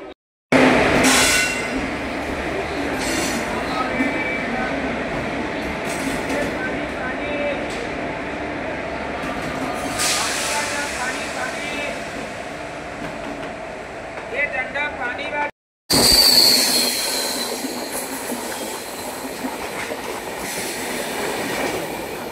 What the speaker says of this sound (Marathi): कसारा घाट सुरू झालेला आहे आणि पहिल्या टनलला आता आपली ट्रेन क्रॉसिंग करणार आहे.